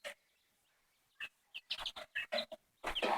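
Meat birds wandering in a mixed-breed chicken coop, giving a string of short clucks and chirps close by, sparse at first and then rapid and busier toward the end.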